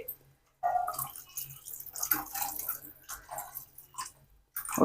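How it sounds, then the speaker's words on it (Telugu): Water poured from a small glass into a pan of spinach curry cooking with chilli powder and salt, a burst of splashing and sizzling after a short silence, close and uneven, with a few drips and clinks. "ఒక నిమిషం తర్వాత వాటర్ పోసుకుందామండి"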